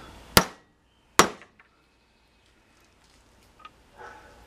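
Two sharp hammer taps on a vehicle universal joint being pressed out without a press, close and loud, spaced about a second apart, followed by faint scattered clinks.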